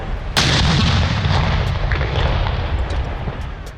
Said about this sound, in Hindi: दारुल हुकूमत इस्लामाबाद में 31 तोपों की सलामी